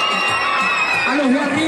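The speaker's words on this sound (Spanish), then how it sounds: "Fuerte el aplauso para ustedes" Crowd cheering and applause from a live audience at a shopping mall TV show event, a steady roar of voices and clapping filling the space, with a faint tonal background running underneath.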